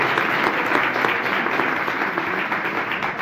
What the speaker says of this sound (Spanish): Yo quiero dar un aplauso primero a todos vosotros